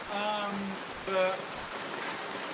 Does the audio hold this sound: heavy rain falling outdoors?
yes